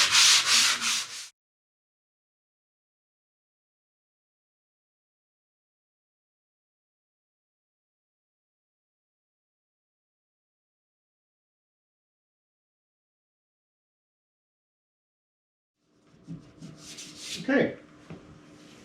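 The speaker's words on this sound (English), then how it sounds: "I'm just going to lightly sand this wall now" A patched drywall crack is hand sanded in two short rasping bursts, one at the start and one near the end, with a long silence between them.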